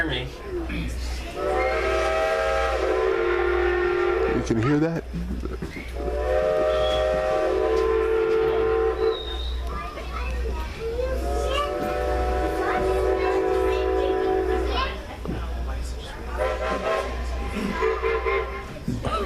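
On a Strasburg train ride, the engine blows its whistle at a railroad crossing in several long harmonic blasts over a constant low rumble, with people talking between and under the blasts.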